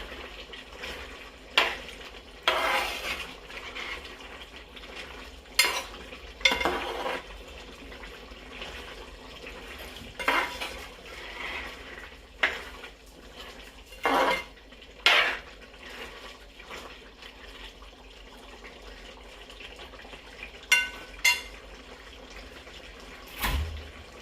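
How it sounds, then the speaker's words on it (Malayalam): A spoon stirs and scrapes through beef curry in a pan with curry leaves, giving intermittent metallic clinks and scrapes at an uneven pace, close and moderately loud over a low kitchen background. "നന്നായിട്ട് ഇളക്കിക്കും."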